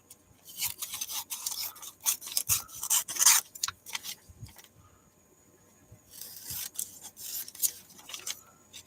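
Scissors snip through paper for a handmade craft tag, close up, in irregular clusters of crisp cuts separated by brief quiet gaps.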